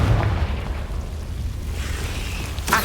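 Confringo blasting spell detonating in Hogwarts Legacy, a deep booming explosion that opens loudly and rumbles on at low level, with a brief sharp burst near the end.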